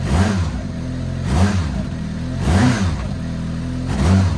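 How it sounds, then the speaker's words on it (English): Twincharged Mazda Apex car engine revving in repeated throttle blips, four sharp rises and falls in pitch roughly every 1.2 seconds over a steady idle, loud and close, on a snowy tuning session. "Look at this, when I blip the throttle."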